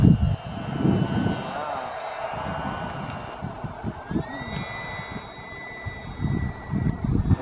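An E-flite UMX Turbo Timber RC plane flies overhead with a thin, high motor whine that rises and falls in pitch as it passes. People talk throughout, and their voices are louder than the plane.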